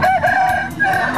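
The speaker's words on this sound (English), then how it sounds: "This is a fighting chickens." A fighting rooster at the Khon Kaen agricultural expo in Thailand crows once, a loud, close, drawn-out cry with a wavering tone that fills the moment.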